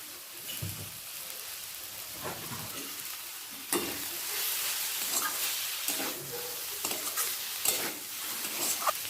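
Fenugreek leaves (methi shak) fry in a pan, a soft steady sizzle broken by several sharp scraping stirs of a spatula, close and clear with no talking.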